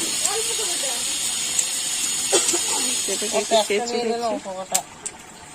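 Four or five dry red chillies crackle and hiss in hot oil as a tempering for a bitter gourd and pumpkin dish. The sizzle is steady and close, with a voice talking over it.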